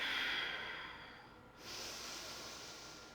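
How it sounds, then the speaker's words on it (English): Deep breaths during a hip-opener yoga class: a long, airy exhale fades out, then a fresh breath follows, soft and close with a faint hiss. "4 big breaths"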